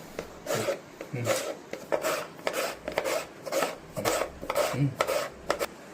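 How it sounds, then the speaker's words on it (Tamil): A knife chops tomatoes on a board for biryani, with steady repeated cuts about twice a second, close and fairly loud, with faint scraping between strokes and no talking. "இப்போ தக்காளியும் வெட்டிக்கலாம்."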